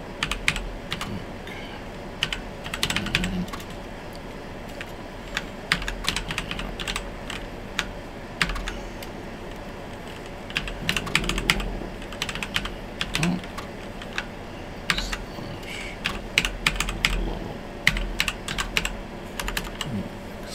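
Fingers type on a Commodore Amiga computer keyboard at the shell prompt, bursts of quiet close key clicks with short pauses, no talking.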